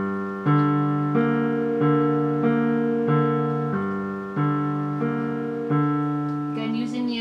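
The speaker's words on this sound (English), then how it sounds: "And so all together that measure sounds like this." A piano plays one measure of a piece, a rolling arpeggiated figure of clear, evenly spaced notes over a low bass, heard alone and close.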